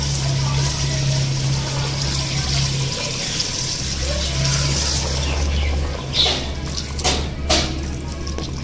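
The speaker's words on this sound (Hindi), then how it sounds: "अब इसमें हम डालेंगे गर्म पानी" Hot water pouring into a pot of mutton paya masala, a steady gushing stream with a low hum underneath, then sloshing and clinking as the pour ends.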